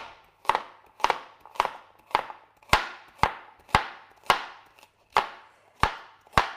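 A knife slices carrots on a chopping board for a vegetable soup, producing about a dozen sharp, evenly spaced chops with short ringing decays, close and clear with no talking.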